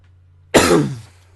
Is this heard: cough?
yes